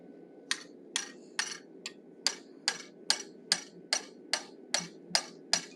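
A hammer strikes a chisel cutting the mouth into a forged animal head, about a dozen sharp metallic blows at a steady, slightly quickening rhythm, close and clear over a low background hum.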